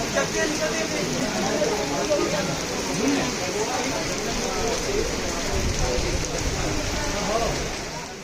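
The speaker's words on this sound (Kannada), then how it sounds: "ಇದ್ದಕ್ಕಿದ್ದಂಗೆ ಜೋರು ಮಳೆ ಶುರು ಆಯಿತು" Heavy monsoon rain pours down around a tent on a trip with friends, a dense, unbroken roar of drops drumming on surfaces that stays loud and even throughout.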